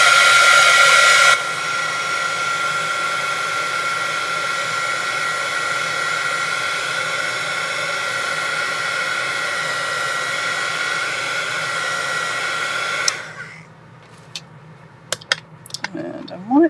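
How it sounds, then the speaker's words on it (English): A heat gun blows hot air over colored paint in a craft project, a loud steady whooshing roar that runs for about thirteen seconds, briefly louder at the start, then cuts off, leaving faint clicks and handling noises. "And then we are going to take our heat gun"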